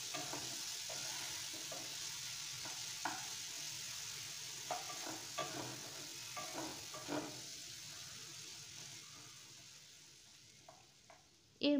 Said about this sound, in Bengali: পেঁয়াজটাকে দিয়ে একটু গোল্ডেন ব্রাউন কালার হওয়া পর্যন্ত ভেজে নিচ্ছি